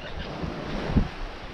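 Wind and waves rush steadily around a sailboat running on a broad reach in a 12 to 15 knot breeze, with a low buffeting roar and a brief swell of wash near the middle, and no voices.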